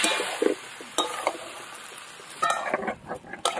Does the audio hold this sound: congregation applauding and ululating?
no